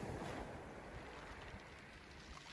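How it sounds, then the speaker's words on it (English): Ocean waves wash onto a beach as a soft, continuous broadband hiss, faint and distant with no distinct breaks. "imagine the waves coming onto a beach"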